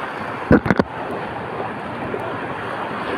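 Waves on a wide lake, about 8 kilometres across, roll in a steady, continuous wash with wind buffeting the microphone and a few brief loud knocks near the start.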